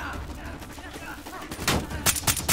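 Gunfire from Call of Duty Black Ops 3 rattles in a short burst of sharp shots over a dense game soundscape, growing louder toward the end.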